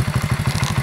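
A 13-year-old Delta moped engine idles after a winter warm-up, a steady, close, fast pulsing putter with regular low thumps and a rattly edge throughout.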